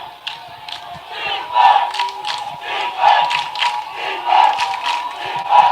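A crowd at a high school varsity football game, Pius X against Omaha North, cheers and chants loudly in rolling waves with a commentator speaking over it.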